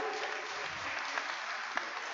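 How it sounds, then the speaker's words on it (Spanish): A church raffle audience in Cunén, Quiché, Guatemala claps steadily, a dense and even wash of applause that holds at the same level from start to finish. "vamos a brindarle fuertes aplausos"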